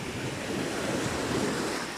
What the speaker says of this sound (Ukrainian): Грудневе море.